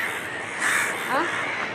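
A couple of crows caw loudly nearby, scared off by firecrackers, harsh calls rising over a steady background hiss; no voices are heard.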